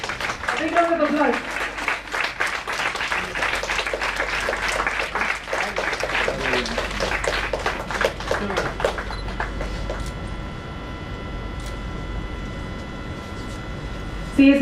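An audience at a Women's Day celebration claps steadily through a memento presentation, with dense applause that thins toward the end, where voices can be heard.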